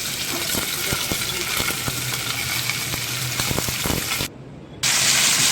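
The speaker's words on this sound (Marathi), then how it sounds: "आता त्या भाज्या तेलावर छान फ्राय करूया" Potato, cauliflower and peas fry in oil seasoned with cumin, bay leaf and turmeric, producing a loud continuous sizzle with spatula stirring clicks, briefly dipping before a brighter hiss returns.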